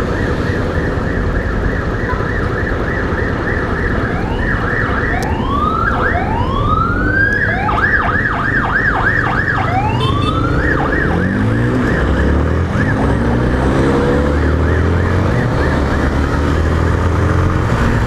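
An ambulance siren passes along a street, its loud wailing and yelping sweeps rising and falling repeatedly over a continuous bed of traffic rumble, with no one talking.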